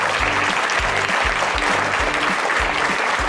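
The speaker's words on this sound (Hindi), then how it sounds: "जोरदार ताली अपने लिए बजा लो।" Schoolchildren at a higher secondary school clap loudly in a rhythmic, unified beat, with strong, evenly spaced claps filling the room.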